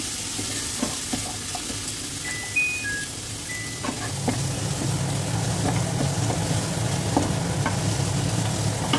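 Garlic and onion frying in ghee for a Bengali prawn moilee, with a steady close sizzle and scraping stir strokes throughout, no talking.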